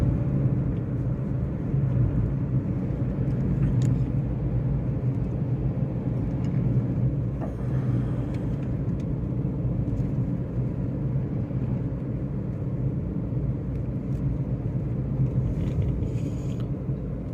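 Hyundai Santro car climbing a steep uphill road, a steady low engine rumble heard from inside the cabin, moderately quiet and continuous with no talk.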